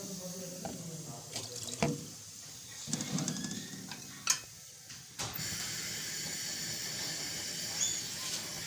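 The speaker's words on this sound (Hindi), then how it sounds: "ये हम इसमें इतना पानी डालेंगे हमारे आलू गल जाए।" Water splashing and running into a cooking pot of raw potatoes, a steady hiss with intermittent clanks and knocks, fairly quiet, for a halwa puri meal.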